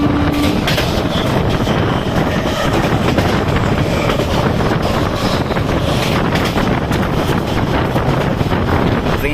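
An Indian LHB-coach express train, the Naini Doon Jan Shatabdi, runs on rails between Kathgodam and Dehradun, a loud continuous rumble with rhythmic wheel clatter and wind roar heard from inside the moving train.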